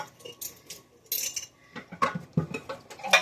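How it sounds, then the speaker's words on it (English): Dishes being washed in the sink of a kitchen over 100 years old, with cutlery and plates clinking and clattering in irregular bursts close by, water faintly under it, and no talk. "Never ending dishes."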